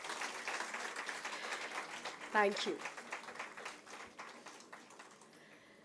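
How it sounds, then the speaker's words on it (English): Audience applause for the winners at a university degree distribution ceremony forms a faint, steady patter beneath a speaker's voice on the microphone. "I think we should have another round of applause for our winners."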